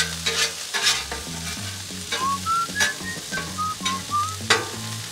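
Burger patties frying on a Blackstone griddle with metal spatula scrapes and clanks, sizzling under musical tones and a whistled melody, with no talk.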